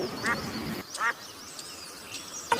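A cartoon duck quacks a couple of times with short nasal calls, over faint background chatter and a soft ambient hum.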